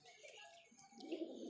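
Pigeons coo softly in a low, murmuring call that swells toward the end, faint and close by with no talk over it.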